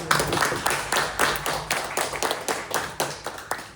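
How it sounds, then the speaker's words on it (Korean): A church audience claps together in a steady, rhythmic beat, close and moderately loud, the individual claps distinct and evenly spaced throughout. "다시 한번 박수."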